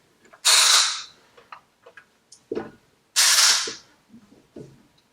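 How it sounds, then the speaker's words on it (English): Two loud hissing bursts of compressed air, each about a second long, blow debris out of a bored engine cylinder on a boring machine, separated by small clicks and taps of handling metal parts. "we're going to blow the crud out of there"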